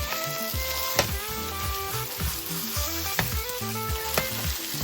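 Leftover rice frying in a pan for pork fried rice, a dense continuous sizzle with rhythmic stirring scrapes and occasional sharp clanks of the spatula, close and fairly loud.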